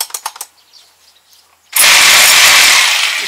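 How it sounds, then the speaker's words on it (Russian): A rotary hammer bores a hole for rebar into the wall of a house extension, starting abruptly as a loud, steady, harsh grinding roar that runs on alone after a few short clicks and faint handling noises. "Для этого берем перфоратор"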